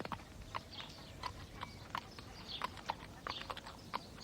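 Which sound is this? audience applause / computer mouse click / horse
horse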